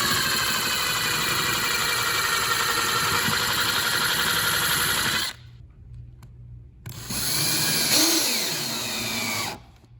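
Power drill driving screws to fix a mounting track onto a board, a steady loud whine running for several seconds, cutting out briefly, then revving again with a slight pitch sweep before stopping.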